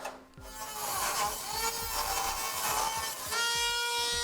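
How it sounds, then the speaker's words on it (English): Metal heat shield on a 2013 Ford Escape being trimmed with a cutting tool, a continuous close rasping, grinding scrape with rapid rhythmic strokes, loud and alone. "We're going to be trimming out that area of our heat shield."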